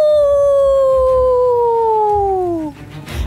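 A single high, sustained howl imitating a wolf, sliding slowly downward in pitch for nearly three seconds before breaking off into brief noise.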